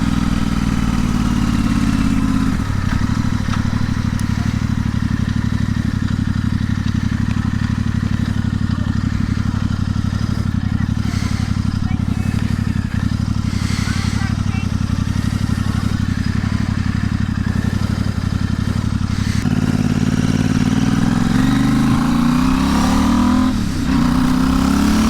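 A Royal Enfield Interceptor 650 twin with a Sold Out Motorcycles Short Shot exhaust with removable baffles idles with a deep, steady, loud throb, then blips its throttle briefly near the end.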